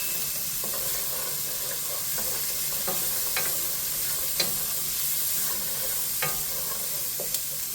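Chopped carrots sizzle steadily in a pan of onions for minestrone, a close hiss broken by scattered clicks and scrapes of stirring.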